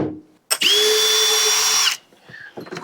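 A power drill bores a hole while a Starlink satellite dish mount is being fitted. One steady, loud, high whirring burst of about one and a half seconds starts and stops abruptly, close by, with a little quiet handling noise afterward.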